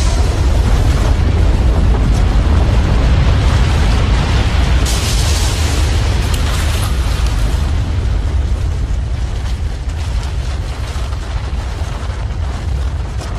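A volcanic lateral blast roaring across the landscape, a continuous heavy rumble of loud broadband noise that surges midway and holds without pause.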